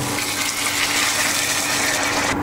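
About two cups of lukewarm water are poured into a pan of bam fish curry, a brief, close, steady gushing splash with no talk.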